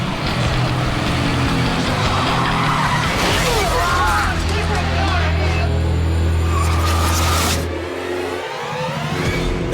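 A getaway car skids with a sustained tyre screech and engine roar, then slams into an unmarked police car with a crunching, shattering impact near the end, loud and close.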